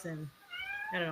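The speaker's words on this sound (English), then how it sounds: "whose cat is that? That's our cat." A house cat meows during a live show, its tonal cries rising and falling between and under a person's nearby talk.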